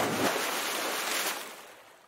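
A splashing rush of water as a small bug dives off a log into a pond, a broad, fairly loud wash of spray that swells briefly and then fades away.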